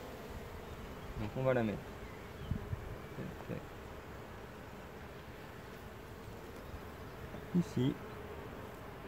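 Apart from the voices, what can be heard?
honeybees buzzing at small hives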